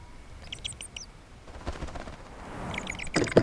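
Newly hatched owl chicks in a nest in a dark forest make thin, rapid high-pitched begging calls in short bursts, faint at first and louder near the end, over soft rustling.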